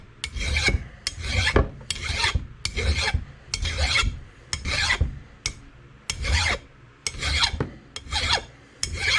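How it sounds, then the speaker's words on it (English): Loud, close rasping of a coarse file working the edge of an old USGI axe, repeated stroke after stroke in an even back-and-forth rhythm, each pass a harsh scraping burst, with no voices. "Now this is a pretty coarse file."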